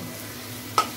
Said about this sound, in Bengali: যেন কাঁচা লঙ্কা দিয়ে ভাজছি শুধু